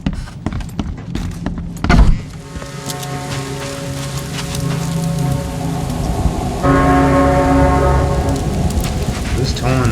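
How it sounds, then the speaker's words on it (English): Church bell tolling through steady rain in the video game The Sinking City, with sustained ringing tones layered over the constant hiss of rainfall. "Who's tolling the bell?"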